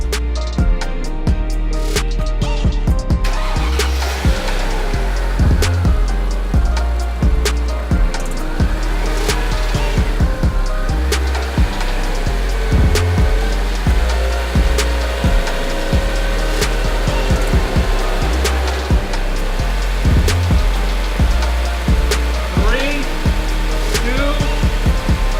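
A Mercedes S500 engine held at about 1500 RPM during a Seafoam treatment, a loud, steady idle-like drone with rhythmic pulsing and rattly ticking that continues unbroken throughout, close by, with no talking.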